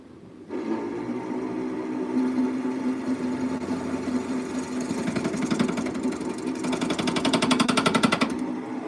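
A jewelry texturizer tool buzzes against a metal piece in a steady, rapid mechanical chatter, starting suddenly and holding a loud, vibrating drone for several seconds with slight surges near the end.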